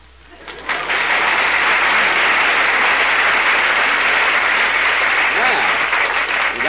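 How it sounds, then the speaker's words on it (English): A studio audience at a 1938 Jack Benny Easter radio broadcast breaks into applause, swelling quickly after a quiet start into a loud, even roar of clapping that holds to the end. "Applause."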